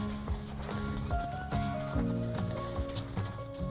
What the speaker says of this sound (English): So now we've got our horse going around us.